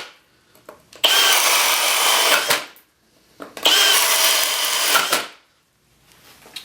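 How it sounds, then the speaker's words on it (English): A powerful brushless cordless drill runs at full speed in two loud, steady bursts of about a second and a half each, with a short pause between them and no talking. "this is one of the more powerful brushless drills that you can actually get"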